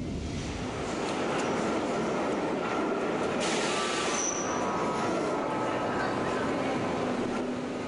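A Berlin U-Bahn Kleinprofil type A2 train rumbles through an underground tunnel on the old Line A toward Potsdamer Platz, with a steady roar of wheels on rail and a brief high squeal midway.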